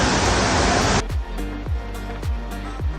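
Rushing water at Gunung Janggot waterfall, a natural tourist spot near Mataram, roars as loud broadband noise for about a second, then drops to a quieter background of flowing water broken by several soft low thumps.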